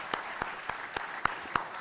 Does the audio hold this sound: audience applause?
yes